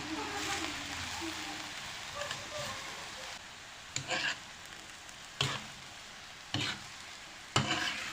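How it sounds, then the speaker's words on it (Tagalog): Ripe jackfruit cooks with sugar in a pan, a spoon stirring in a few scraping strokes spaced a second or so apart over a soft, steady sizzle, close and moderately quiet. "Halo-haloin po natin."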